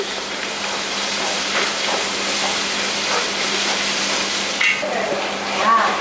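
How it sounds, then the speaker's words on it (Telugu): Ginger-garlic paste frying in a pan gives off a steady, close, dense hiss of sizzling oil, with faint stirring scrapes and a brief squeak. "ఇది పచ్చివాసన పోయే వరకు మంచిగా వేయించుకోవాలి"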